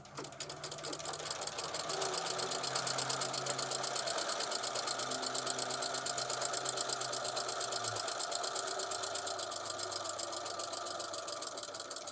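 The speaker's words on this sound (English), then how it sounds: "start your edge stitch about a 1/2 inch down" A sewing machine edge stitches fabric in a steady, fast mechanical rhythm that runs continuously at close range.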